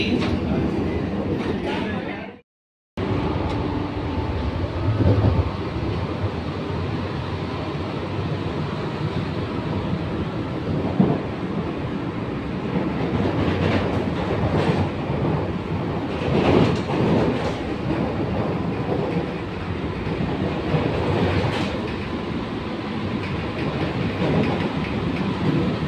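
Chennai's first air-conditioned EMU suburban train running toward Chengalpattu: a steady rumble of wheels and carriage noise with occasional rhythmic clacks, briefly cutting out early on, then continuing loud and even.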